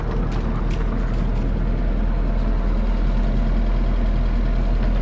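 An inboard boat engine runs steadily at about 1700 RPM, a loud, close, constant low rumble that never changes pace, with no voices.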